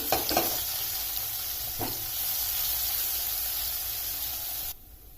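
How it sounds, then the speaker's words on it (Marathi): A ground spice paste is tossed into a hot mustard-seed and asafoetida tempering for Maharashtrian besan vadi, giving a steady hiss and sizzle with a few stirring clicks near the start before the sound cuts off abruptly near the end. "यात टाकते मी थोडासा हिंग आणि हे तयार केलेलं वाटण थोडं या वाटणाला परतवून घेऊ"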